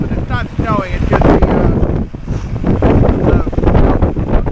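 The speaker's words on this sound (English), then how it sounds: "Still a little windy out." Gusty wind blows outdoors in central Illinois after a February blizzard, a loud, continuous rumbling rush against the microphone with a person talking through it.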